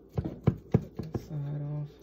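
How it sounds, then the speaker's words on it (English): A knife chops through the bones of tender oven-baked barbecue ribs in a pan, giving five sharp close knocks in quick succession, followed by a voice humming. "Well, I'm cutting the bone."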